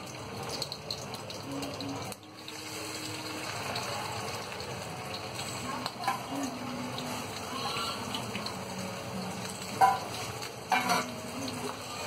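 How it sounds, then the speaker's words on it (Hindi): Mashed boiled potato sizzles in hot ghee while being stirred in a pan, a soft, steady frying crackle with occasional scraping stirs, fairly quiet. "अब घी बिल्कुल गर्म है, अब मैं इसके अंदर मैश किया हुआ जो आलू हमारा बॉइल्ड पोटैटो वो डाल दूंगी।"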